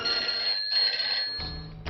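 A telephone rings with a bright, steady electronic tone, loud and close, running nearly two seconds with a brief dip in the middle and no talk.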